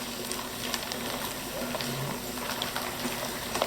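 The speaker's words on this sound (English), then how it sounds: "And then we're just going to mix it all together like this" A chicken brine being mixed in a bowl, giving a soft, continuous wet swishing and sloshing that stays fairly quiet and close throughout.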